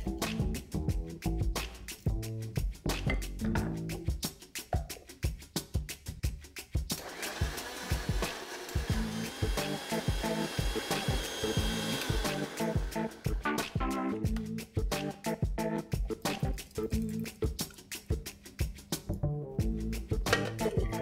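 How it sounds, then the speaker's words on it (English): A blender grinds tomatoes, vegetables and bread into gazpacho, running loud and steady with a rapid pulsing chop that goes on without a break, with no talking. "So let's begin grinding this."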